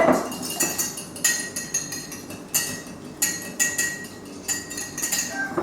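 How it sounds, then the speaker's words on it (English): An egg is whisked in a bowl, a utensil clinking against the sides in quick, uneven bursts, close and fairly loud with no talking. "Crack our egg, whisk it a bit."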